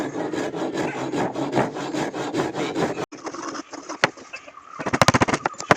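Wooden table leg being hand sawn, a steady rhythmic back-and-forth rasp of the saw for about three seconds, then lighter scraping and knocking of wood, close and loud with no talking.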